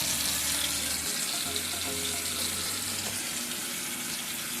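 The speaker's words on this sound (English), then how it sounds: "cold water." Cold tap water runs steadily into a sink, a continuous close hiss of flowing water with a faint low hum underneath, no talking.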